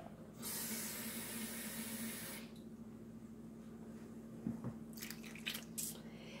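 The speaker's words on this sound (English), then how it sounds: "I'm also going to add a half a cup of water to the mixture" Half a cup of water added to a plant milk mixture for baked buffalo cauliflower, heard as a broad pouring splash for about two seconds followed by quieter drips and small liquid sounds, close and with no talk.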